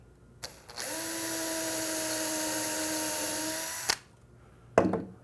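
Power drill with a small brad point bit boring a pilot hole in a cabinet face frame: one steady high whine of about three seconds, close and fairly loud, bracketed by short clicks and handling noises.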